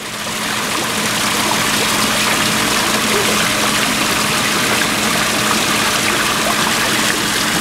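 A garden waterfall in Wisconsin pours and splashes continuously, a loud, dense, steady rush of falling water close by.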